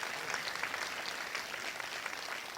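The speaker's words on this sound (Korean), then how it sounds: "우리의 찬양을 받으신 하나님께 박수로 영광을 올립니다." A church congregation claps together in steady, dense applause that fills the space evenly from start to finish, with no voices standing out.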